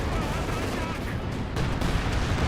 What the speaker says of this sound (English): Detonates a landmine there.